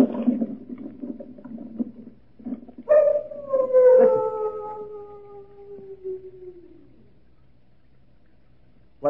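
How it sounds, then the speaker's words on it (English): Large dogs kept at a French chateau let out a long, wavering howl that rises and then slowly trails off over several seconds, following a short stretch of low murmuring, heard fairly close and alone in a quiet night setting. "What was that? Only the dogs, monsieur."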